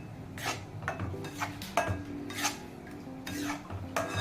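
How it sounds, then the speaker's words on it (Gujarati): Gram flour batter being stirred with ghee in a pan on a switched-off stove, giving repeated scraping and sloshing strokes of a spoon against metal in a steady rhythm, close and moderately loud. "તમે જોઈ શકો છો ઘી અને બેટરને એકદમ સારી રીતે મેં મિક્સ કરી દીધું છે"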